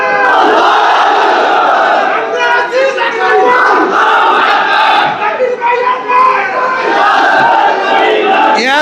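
A large crowd at an outdoor religious-political rally in Ramganj roars a chanted battle-cry response to the Nara-e-Takbir call, loud, sustained and massed voices rising and falling in waves for several seconds.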